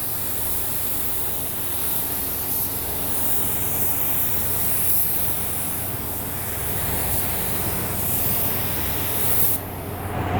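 A spray gun lays down a second coat of air-dry clear coat in a loud, steady, close hiss that runs almost unbroken throughout and drops off briefly near the end.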